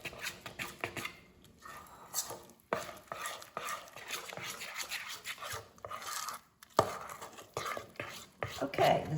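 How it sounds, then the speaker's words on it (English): A wooden spoon stirs pancake batter in a bowl, giving soft irregular scraping and knocking against the sides, close and fairly quiet with occasional sharper clacks. "stirring it with a spoon or a wooden spoon is fine"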